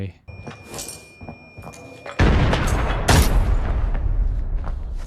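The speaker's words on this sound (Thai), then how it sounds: "ปาระเบิดไล่เพื่อไม่ให้เขาดักบันได" A loud grenade explosion bursts in the video game Arena Breakout, followed moments later by another heavy blast, with voices talking underneath.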